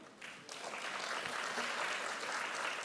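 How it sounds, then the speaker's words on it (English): A conference audience at the ASEAN Carbon Pricing Conference claps in welcome, the applause starting softly and quickly building into a steady, even patter heard from across the room. "big round of applause to welcome Kun Pawit"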